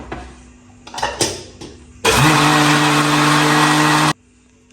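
A mixer grinder whirs loudly for about two seconds with a steady, high motor roar while grinding dosa batter with a little water, after a few clinks and knocks, then stops abruptly.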